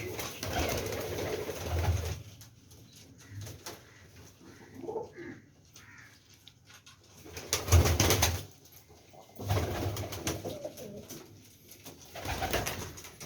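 Teddy pigeons in a loft in Rawalpindi cooing in low repeated bursts, with occasional wing flaps and rustling between calls, fairly close and moderately loud.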